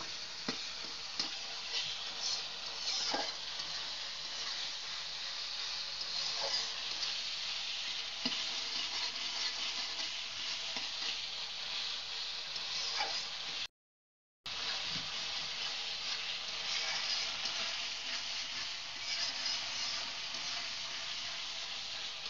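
Spice paste for mutton liver bhuna sizzles steadily as it is sautéed in a pan, a continuous close frying hiss broken by light scraping ticks from stirring, with no talking.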